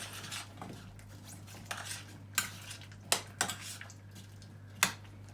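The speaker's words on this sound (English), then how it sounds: "I'm going to add the carrots into this here, into the beef. Just give them a wee stir fry." Beef and carrots being stirred in a pan give a few sharp clinks and scrapes of a utensil against the metal over a low, steady background, with scattered knocks spread through the stretch.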